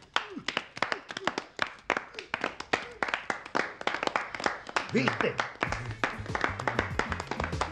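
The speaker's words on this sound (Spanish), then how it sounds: "Gracias por este aplauso desinteresado." Applause from a small group, rapid irregular hand claps, fairly close and steady for several seconds, with a brief spoken word and low voices near the end.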